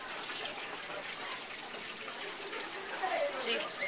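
A small stream of fish tank water trickles and pours quietly for a nitrite test, soft and continuous with light splashing toward the end.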